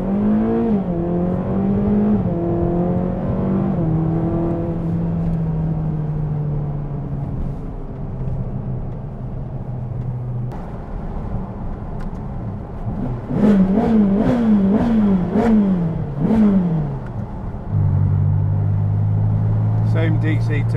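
A V8 engine drones and revs inside a car, pitch climbing through gear shifts with a sharp burst of acceleration, voices talking over it.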